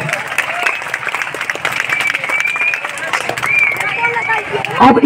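A crowd claps at an outdoor honouring ceremony where officials receive ceremonial cloths. The clapping is lively and uneven, mixed with chatter and babble, and a louder burst of sound comes near the end.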